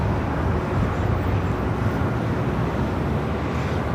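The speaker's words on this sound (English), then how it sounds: "the Dreamliner coming in from Warsaw" Boeing 787 Dreamliner arriving at LAX from Warsaw, a loud, steady low jet roar that stays level throughout with no speech.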